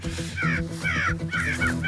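Crows cawing in winter over decoys set out for a crow hunt, a steady run of harsh, repeated caws from several birds in close succession, fairly near and loud, with no talking.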